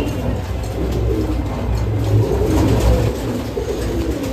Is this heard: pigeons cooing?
yes